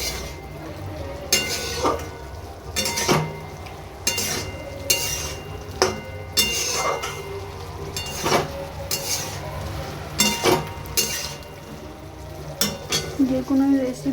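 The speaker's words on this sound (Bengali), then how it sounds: "কিছুক্ষণ আমি কষিয়ে নিচ্ছি।" Pointed gourd (patol) curry is stir-fried in a pan. A spatula scrapes and clinks against the metal in a steady, busy rhythm over a continuous low sizzle, with faint background noise throughout.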